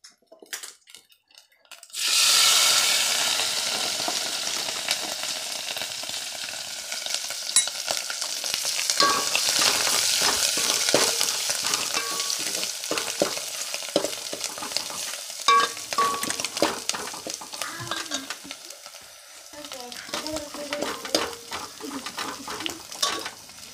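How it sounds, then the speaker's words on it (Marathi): Onion and garlic frying for a partridge recipe, a loud bright sizzle that starts abruptly and carries on, broken by frequent scraping stirs and clinks of a utensil against the pan. "कांदा लसूण, कांदा घेऊ भाजून"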